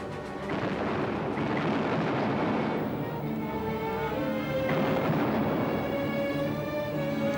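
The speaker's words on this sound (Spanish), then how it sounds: "El Bismarck y el Prince Eugen contestaron al fuego" Heavy naval gunfire from the battleship Bismarck and the cruiser Prinz Eugen, a continuous booming roar with repeated deep blasts and rolling rumble throughout.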